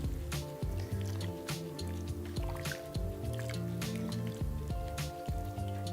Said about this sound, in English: I'm going to give this a mix and let this cook for about maybe a minute or 2.